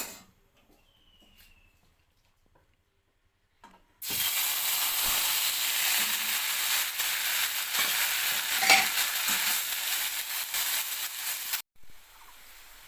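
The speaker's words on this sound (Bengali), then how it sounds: "কড়াইতে তেল দিয়ে দিয়েছি, তেলও গরম হয়ে গেছে। এবারে আমি লাউ পাতা বাটাটা দিয়ে দেব।" Ground bottle gourd leaf paste dropped into hot oil in a wok, a sudden loud sizzle after a quiet start, hissing steadily for several seconds before cutting off.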